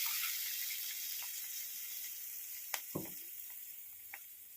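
Water poured into a hot pan for broken-rice pulihora gives a soft, even sizzling hiss with a few faint clinks and splashes, and no talk.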